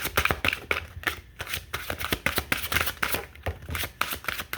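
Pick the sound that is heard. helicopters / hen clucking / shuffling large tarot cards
shuffling large tarot cards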